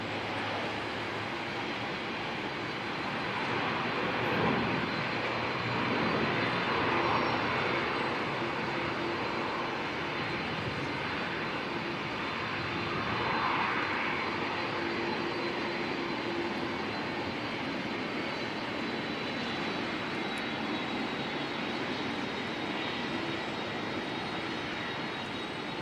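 Airliner jet engines spool up at Auckland Airport, a broad continuous roar heard from a distance that swells gently twice and otherwise holds steady throughout.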